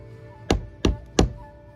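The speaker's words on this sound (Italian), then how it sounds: "Proviamo a bussare alla porta del maestro" Three firm knocks on the door of composer Manuel de Falla's house in Granada, evenly spaced and close, each a sharp wooden thud that rings briefly, with no reply afterward.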